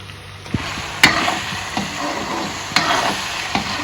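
Chili, turmeric, garam masala and seasoning mix roast in a hot pan with a steady sizzle, while a spoon scrapes and stirs in irregular knocks, close and fairly loud, no talking.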